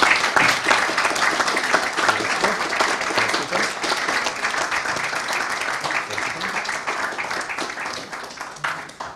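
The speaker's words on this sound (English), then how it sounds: "please a round of applause" An audience at the Belgrade Security Forum applauds award-winning authors with sustained, lively clapping from many hands, close and loud, gradually thinning toward the end.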